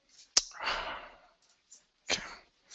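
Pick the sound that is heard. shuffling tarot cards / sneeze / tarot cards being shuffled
sneeze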